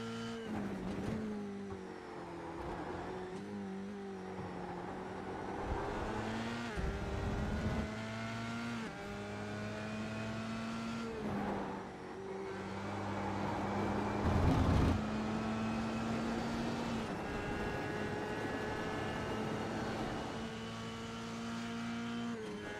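An F3 race car engine in a sim racing game at Zandvoort whines through repeated gear shifts, pitch rising and dropping as it accelerates and brakes, with a steady motor drone underneath.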